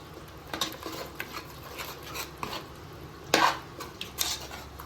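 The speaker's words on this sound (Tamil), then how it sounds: "இந்த மசாலா தான் இந்த பிரியாணிக்கு வந்து டேஸ்ட் கொடுக்குறது. நல்லா மிக்ஸ் பண்ணிக்கிறேன்." Masala is stirred into a pot of Karnataka-style mushroom donne biryani, a metal spoon scraping and clanking against the vessel in irregular strokes, close up with a faint sizzle beneath and no talk.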